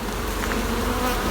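Honey bees crowd a hive frame during a hive split, making a dense, continuous, close buzzing hum with no talking.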